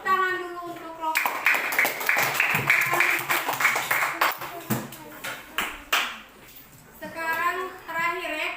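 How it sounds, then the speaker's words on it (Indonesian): A classroom full of schoolchildren applauds a group, with dense clapping that lasts about six seconds and then thins out. An adult voice speaks just before and after the applause. "Beri tepuk tangan dulu untuk kelompok."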